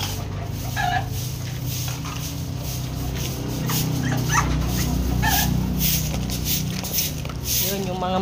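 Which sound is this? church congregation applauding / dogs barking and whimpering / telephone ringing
dogs barking and whimpering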